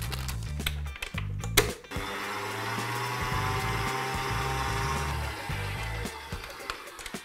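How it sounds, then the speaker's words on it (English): Electric mixer beating 150 grams of soft unsalted butter, a steady motor whir with stop-start bursts and clatter at the start, then a continuous close hum. "I've got 150 grams of soft unsalted butter. I'm just going to beat that for about 5 minutes."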